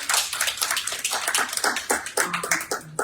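Crowd at a school board and community meeting claps hands to honor teachers. The applause is steady and dense throughout, with a few sharper individual claps standing out and no talking.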